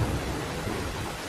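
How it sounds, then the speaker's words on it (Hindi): Heavy evening rain pours down in a dense, continuous roar, with a deep rumble of thunder underneath, loud and unbroken throughout with no speech. "उसी दिन शाम को तेज बारिश फिर से शुरू हो गई।"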